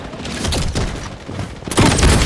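Booming video game explosion amid ongoing gunfire, with a heavy blast rumbling near the end.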